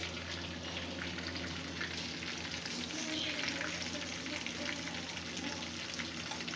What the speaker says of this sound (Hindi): ये देखें कढ़ाई के अंदर मैंने इनको 1 बाय 1 सेट कर लिए।